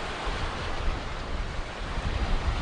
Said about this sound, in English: It is a little bit windy, however.